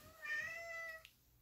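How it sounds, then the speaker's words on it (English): A pet cat lets out one drawn-out, insistent meow lasting about a second, close and clear, in a quiet room with no one talking. "My kitty cat yelling at me."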